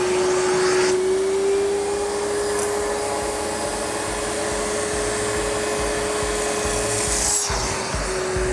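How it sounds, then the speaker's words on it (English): Wet vacuum running steadily on a convertible car's soft top during cleaning, a loud continuous motor whine with a strong steady tone, alone without talk, dipping briefly near the end. "Let's put on our vacuum."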